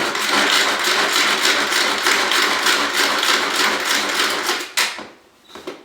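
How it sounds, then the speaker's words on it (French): Tupperware Turbo Chef pull-cord chopper cutting guacamole ingredients, a rapid whirring rattle repeated with each pull, close and steady, stopping abruptly with a clack near the end. "Je le place dans mon turbo chef."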